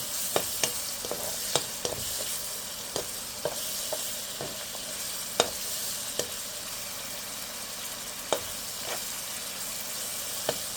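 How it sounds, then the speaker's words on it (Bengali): Garlic paste and onions fry in a pan for a fish curry with potato and eggplant, giving a constant close sizzle broken by sharp, regular spatula taps and scrapes throughout, with no talking. "এক চামচ রসুনের পেস্ট দিয়ে দিলাম আদা দেবো না এটা পেঁয়াজের সাথে কষিয়ে নেবো"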